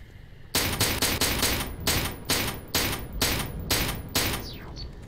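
Gunfire in the video game Interstellar Marines: about ten sharp, loud shots at a fairly regular pace, each cracking out and ringing briefly before the next.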